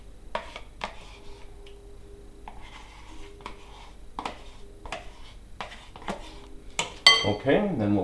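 Sour cream tipped into a large mixing bowl and scraped out with a utensil, giving a string of sharp clinks and knocks spaced through the quiet, then a louder clatter at the end with a voice heard briefly.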